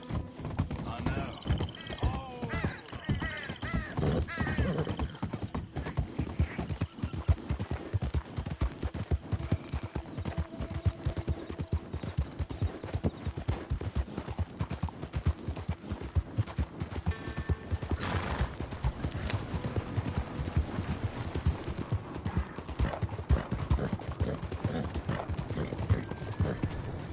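Horse hooves clip-clop steadily in a video game scene, a faint repeated clatter with an occasional whinny, under ongoing character dialogue and scattered background game sounds.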